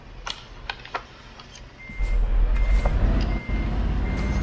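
A new Scania truck in Euro Truck Simulator 2 backing up, its reversing beeper sounding in steady repeated tones over a low rumbling diesel engine that grows louder partway through.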